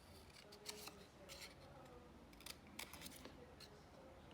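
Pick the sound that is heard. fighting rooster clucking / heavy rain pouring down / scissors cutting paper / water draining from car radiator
scissors cutting paper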